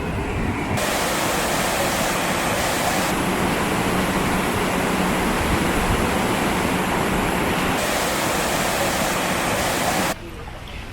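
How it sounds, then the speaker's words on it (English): Water roars steadily into the second chamber of a canal lock beside a narrowboat, a loud, dense rushing that holds constant for about ten seconds before easing slightly at the end. "So the second chamber's filling rapidly"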